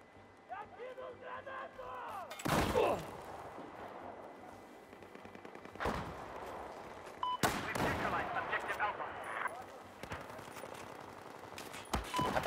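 Battlefield 4 gunfire on PS4 sounds as loud, sharp shots and rapid volleys that crack out repeatedly over a busy battle backdrop, with a player talking throughout.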